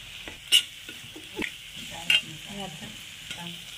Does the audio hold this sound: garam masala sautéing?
yes